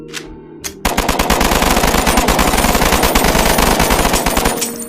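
Rapid automatic gunfire erupts after a brief lull and rattles on continuously at close range, loud and dense, as soldiers open fire on aliens in a comedy film scene.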